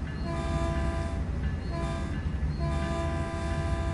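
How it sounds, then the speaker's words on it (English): A train horn sounds for a crossing in the game Train Sim World 2, a loud, sustained chord that is held, briefly broken, then sounded again over a steady rumble of the rail engine. "we better remember the horn codes for the crossings"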